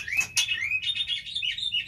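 A songbird native to Takengon, Aceh, giving a run of bright, high chirps and short whistled phrases, close and clear over a faint low background hum.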